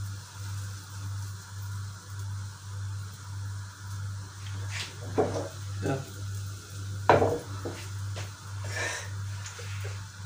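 Apples fry in a pan with a quiet, steady sizzle over a low hum, broken by a few scraping stirs and clinks of a utensil against the pan.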